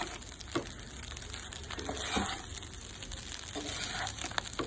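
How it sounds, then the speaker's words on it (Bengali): Mixed fried rice with shrimp and chicken frying in a pan gives a steady close sizzle, with occasional scraping and stirring noises on top. "যেভাবে রাইসগুলো আমি ফ্রাই করছি"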